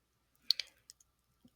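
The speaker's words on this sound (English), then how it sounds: "To get out of the superscript, I will press the right arrow on my keyboard." Computer keyboard keys are pressed while typing math entries: a quick pair of crisp clicks, then a few fainter, scattered taps, close and quiet with no talking.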